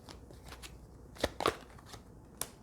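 Tarot cards shuffled by hand in a few quick riffling bursts, with the loudest run near the middle, recorded close and quiet with no speech.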